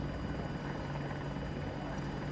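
A helicopter in the Battlefield 2042 video game, likely an Apache, gives off a steady, continuous rotor and engine drone that stays level and close throughout, with no talking over it.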